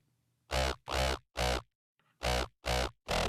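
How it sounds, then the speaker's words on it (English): A dry Serum synthesizer patch with no effects plays six short, loud, evenly spaced notes in two groups of three, with a brief pause in between and no talking. "just the serum, it sounds like this."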